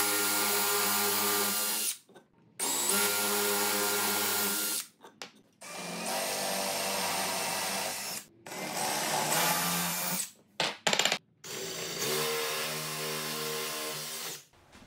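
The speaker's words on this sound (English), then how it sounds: "get it held flat, and then just drill until that tape hits the block." A power drill bores pocket holes into wood with a jig during a beginner table build, several loud close bursts of whirring separated by brief pauses, with no talking.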